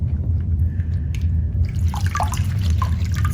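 Torn paper is soaked in water: after a quiet start, soft wet trickles, drips and small splashes come up close, alone and irregular for the last couple of seconds.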